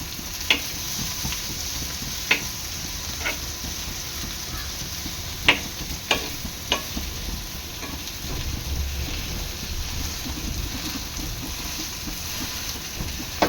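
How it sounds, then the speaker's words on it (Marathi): Okra (bhindi) frying in a pan, a steady soft sizzle and crackle with scattered sharp pops and spits, close and moderately quiet, no voices. "दुसऱ्या साईडने सुद्धा एक पाच मिनटं अशी खरपूस रंग येईपर्यंत शिजून घ्यायची आहेत"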